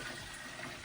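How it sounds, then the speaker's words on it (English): A bucket of water pours steadily into a small saltwater aquarium, a continuous gushing splash stirring up the sand, close and fairly quiet with no talking. "pour our first bucket of water into our tank"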